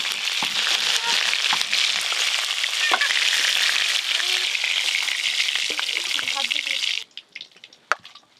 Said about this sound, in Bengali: এবার আমি ইলিশ মাছের মাথাগুলোও ভেজে নেব